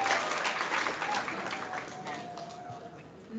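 Audience applause fills a school gym at a fifth-grade ceremony, a steady, moderately loud crowd clapping that gradually thins and fades toward the end.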